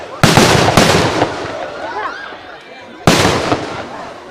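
Fireworks and firecrackers explode at an outdoor show in West Bengal: two loud sharp bursts with crackling tails, a pause, then another big blast, with faint whistling and crowd voices in between.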